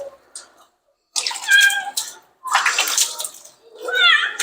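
A Persian cat meows and yowls in distress during a bath, with several drawn-out cries separated by brief pauses, close and loud, while a person speaks softly nearby.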